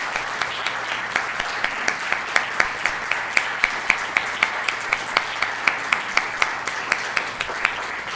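A meeting audience applauds YMCA staff at an annual gathering, a steady wash of clapping with individual claps standing out rhythmically throughout, moderately loud and without talk.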